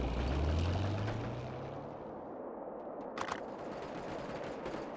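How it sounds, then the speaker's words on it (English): Cannons fire in a real-time strategy war game, a loud low boom with rumbling gunfire that fades into sustained battle noise and a few sharp cracks. "Cannons, fire!"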